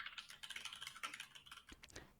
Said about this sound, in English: Can you hear me typing?